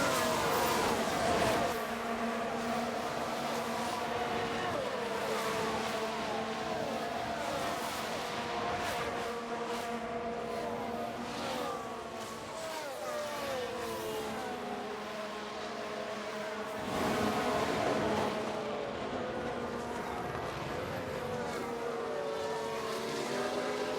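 Formula One cars in F1 Manager 2022 race at Melbourne while a Williams car overtakes. Several engine whines rise and fall in pitch over a constant droning roar.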